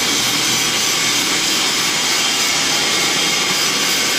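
A hydraulic grooving machine rolls a groove into the end of a pipe, giving off a loud, steady, dense mechanical grind that runs unbroken from start to finish, with no voices.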